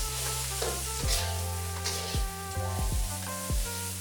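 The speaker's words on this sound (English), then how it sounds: "We'll stir fry this for a minute." Noodles and scrambled eggs stir-fried in a hot wok for Malaysian mee goreng, with a loud steady sizzle broken by repeated scraping and tossing strikes of the spatula against the metal.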